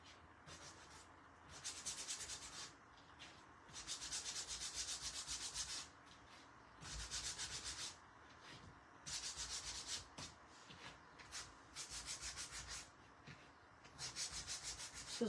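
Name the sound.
sanding a wooden craft piece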